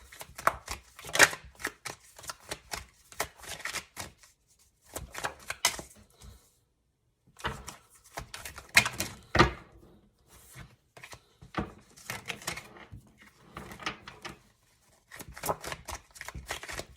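Tarot cards being shuffled by hand, riffling in quick papery bursts that come in spells with short pauses, close and fairly quiet with no talking.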